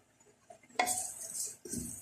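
Boneless chicken handi frying in a clay pot, with a sudden burst of sizzle, bright and steady, then a second sizzle surge after a brief dip, close up and without talk.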